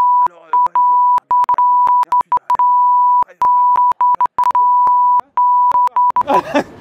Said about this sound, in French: Il y aura des bips